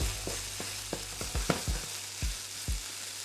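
Sticky jasmine rice reheating in a hot pan with a low sizzle, broken by a series of sharp spatula scrapes and taps in an uneven rhythm, close by, with no talking.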